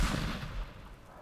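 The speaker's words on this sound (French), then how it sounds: "Bah, il y a même des explosions dans l'eau." A deep, booming explosion in water in the game Teardown rumbles and fades, followed by a lingering low roar, loud and heavy.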